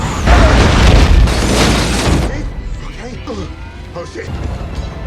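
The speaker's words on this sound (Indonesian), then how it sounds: "Dan tanpa mereka ketahui, ada bom di sana dan langsung." A bomb hidden in a briefcase explodes in the film Bullet Train: a loud, roaring blast with a heavy low rumble lasts about two seconds, then fades as a voice talks over the quieter aftermath.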